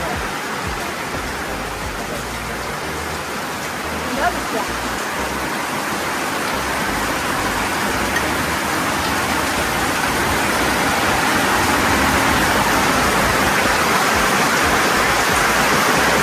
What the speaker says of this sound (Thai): ฝนตกแรงมากจริง